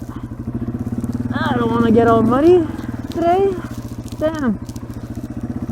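A Yamaha TW200 motorcycle rumbles steadily along a muddy trail, its engine close and continuous beneath a rider's talk and exclamations.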